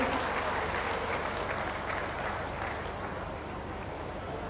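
Applause from a large audience at a government ceremony in Azamgarh where Chief Minister Yogi Adityanath hands out cheques to beneficiaries, a steady, fairly distant wash of clapping that slowly softens, with faint voices underneath.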